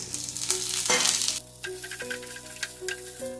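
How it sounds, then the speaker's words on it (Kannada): Cashews and peppercorns frying in oil for a chicken gravy make a steady crackling sizzle beneath melodic background music. "ಅದನ್ನು ಕೂಡ ಕೆಂಪಗೆ ಫ್ರೈ ಮಾಡ್ಕೊಳ್ತಾ ಇದ್ದೀನಿ"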